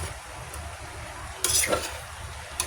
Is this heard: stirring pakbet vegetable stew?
yes